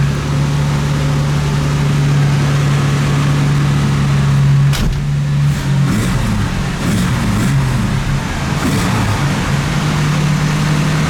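A 1968 Camaro inline-six engine with a carburetor and choke runs on a dyno, holding a loud, steady, close hum throughout with a slight shift midway and no voices.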